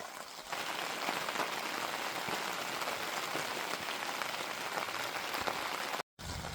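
Steady rain patters on a camping gazebo in the Australian countryside, a dense, even hiss of drops that runs unbroken for several seconds with no talk, cut by a brief dropout near the end.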